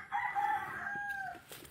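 A rooster crows once in a long drawn-out call at a backyard garden in the Philippines, clear and fairly close, tapering off toward the end.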